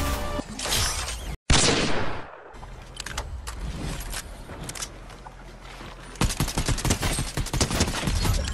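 Rapid bursts of gunfire in a Fortnite ranked match, dense volleys and single cracks loud and close, with a brief gap of silence then renewed heavy firing toward the end.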